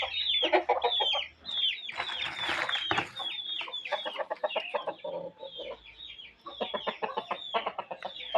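A flock of chickens and a rooster cluck and squawk close by in a hillside farm setting, with a busy, overlapping stream of calls and a brief flurry of louder, noisier fowl sounds midway.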